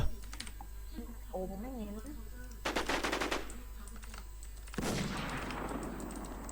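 Rapid bursts of automatic gunfire crackle in a Warzone match, loud and close, broken up by a Thai-speaking player talking excitedly between the volleys.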